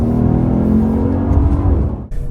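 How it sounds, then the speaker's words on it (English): A 2025 Lexus IS 500 V8 accelerates on a twisty road in second gear, a loud, steady engine drone heard from inside the car, rising in pitch and then briefly dipping near the end. "you've got such a broad torque band with this V8 engine"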